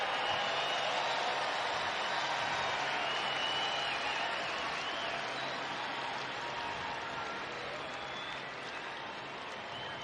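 A baseball crowd at Angel Stadium applauds steadily, a dense wash of clapping and cheers that gradually fades over the stretch, with no talk over it.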